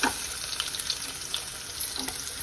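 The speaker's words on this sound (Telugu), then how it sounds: "ఇదిగోండి, నూనె వేడెక్కింది. ఫస్ట్ ఉల్లిపాయలు వేసుకుందామండి." Onions frying in hot oil, a quiet steady sizzle with soft crackles and occasional stirring clinks, close but faint, no voices.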